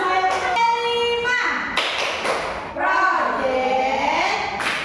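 A group of participants chants and claps out a rhythmic 'tepuk P5' routine during a teachers' webinar, voices loud and close with sharp claps punctuating the sung pattern.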